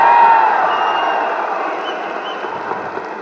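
An audience applauds in a hall during a speech event, a dense wash of clapping that starts loud and slowly fades over a few seconds.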